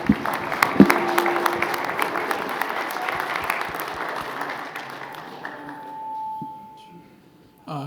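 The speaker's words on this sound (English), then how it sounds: "I want a big round of applause for everybody on the stage" Audience applause at a boxing press conference, a dense wash of clapping that thins and fades out over several seconds, with a few voices heard beneath it.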